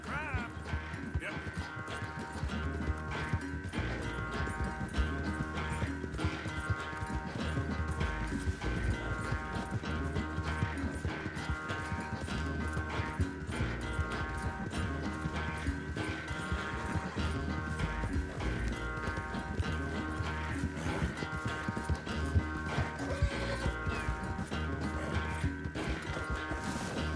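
A horse in the video game Red Dead Redemption 2 clip-clops along at a brisk pace, steady hoofbeats under a game music score, with occasional other animal sounds in the background.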